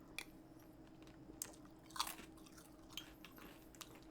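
Crunchy Cinnamon Toast Crunch cereal chewed close to the mic, irregular soft crunches and bites over a faint noisy background.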